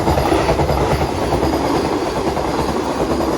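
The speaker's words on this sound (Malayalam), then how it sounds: "വന്ദേ ഭാരത് ട്രെയിൻ പോയി കേട്ടോ" A Vande Bharat express train rushes past up close near Kannur, Kerala, a loud, steady roar of wheels and rail rumble with a faint clickety-clack filling the whole stretch, without any voices.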